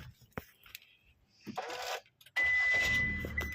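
A 2016 Hyundai Grand i10 Asta automatic petrol fires up by push button after a few small clicks and rustles, the engine catching with a brief whir and settling into a steady idle nearby.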